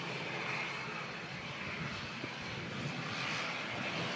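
A British Airways jet arriving from London at Manchester Airport during a storm gives off a faint, distant, steady engine roar blended with broad wind-like noise, with no speech.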